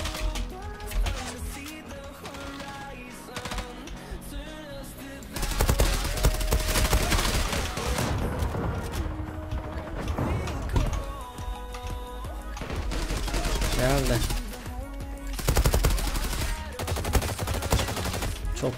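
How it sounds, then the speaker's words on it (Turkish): Rapid bursts of automatic submachine-gun fire in a video game crackle almost continuously, loud and close, with brief pauses between volleys amid a busy, layered soundscape. "Fazla derken mermi hızlı ateş ediyor."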